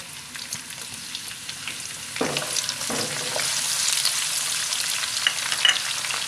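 Finely chopped medium onions frying in hot oil give a continuous hiss that builds louder partway through, with a few stirring knocks and scrapes in the pan, and nobody speaks.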